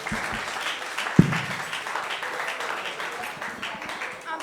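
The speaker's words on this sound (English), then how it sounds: "Yeah, you could clap." Clapping from family guests at a bar mitzvah celebration, a sharp loud clap near the start, then a steady patter of applause beneath ongoing talk.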